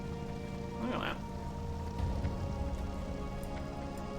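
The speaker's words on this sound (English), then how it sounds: "Raining in Darkshore." Steady rain in Darkshore within World of Warcraft, a dense continuous patter of drops on surfaces with a soft ambient hum beneath, even and unbroken throughout.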